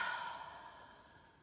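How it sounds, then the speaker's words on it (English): A single long, deep exhale, soft and close, fading gradually over about a second and a half. "take some deep breaths"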